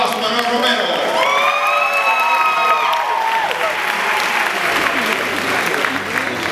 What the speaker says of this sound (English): give a big round of applause for Manuel Romero